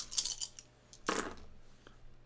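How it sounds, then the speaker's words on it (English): Dice are rolled during a tabletop role-playing game session, giving a short burst of close clattering, a louder rattle as they land, and then a few small clicks, with no talk. "Sounds like a lot of dice."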